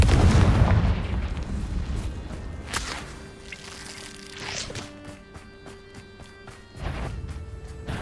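A Confringo blasting spell explodes in Hogwarts Legacy with one loud burst of blast and rumble at the start, then a fading crackle under sustained game music tones and a few smaller impacts.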